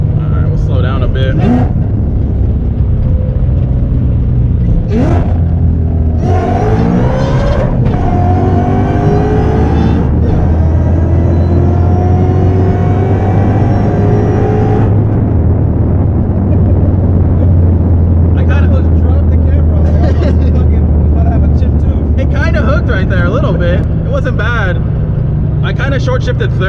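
A 900-horsepower race car accelerates hard on track, its engine loud and close as it climbs through the gears with audible shifts and rising pitch sweeps, occasionally dropping back before pulling again.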